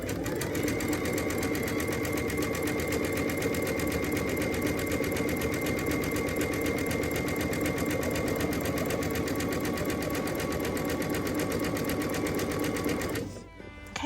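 Sewing machine running steadily and close as it stitches a stretched lettuce hem on knit fabric, a continuous rapid mechanical whir that stops abruptly near the end.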